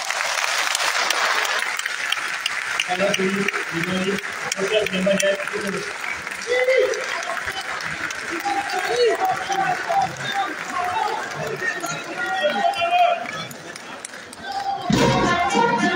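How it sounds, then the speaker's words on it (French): An audience at the closing ceremony of Mali's national refoundation conference applauds President Assimi Goïta with sustained, dense clapping that holds steady for the whole stretch, while an announcer's voice speaks over it. "On applaudit le président Assimi Goïta."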